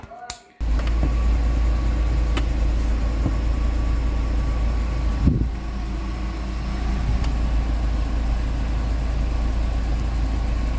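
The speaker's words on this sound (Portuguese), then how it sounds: "Então, o carro já ligado aqui" A car engine idling steadily, recorded close by as a loud, constant low hum and drone after a brief start, with faint clicks and no speech.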